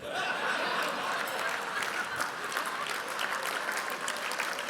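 A comedy club audience applauding steadily with scattered chuckles mixed in, the clapping dense and fairly distant throughout.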